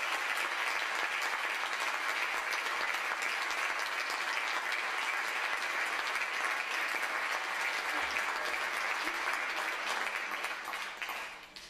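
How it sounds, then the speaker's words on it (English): An audience gives sustained applause for a community award recipient at a medical school event, an even wash of clapping that carries on for over ten seconds before fading slightly at the end. "It would be nice if you give her a round of applause."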